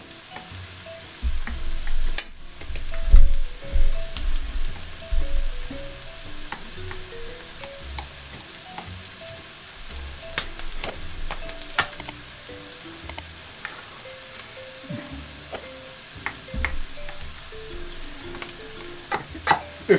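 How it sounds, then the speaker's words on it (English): Cooked potatoes are crushed and stirred in a pot while making Spanish tortilla, giving soft scraping and clinking under a steady low sizzle of frying, close by and without talk. "I'm just going to crush these down a bit"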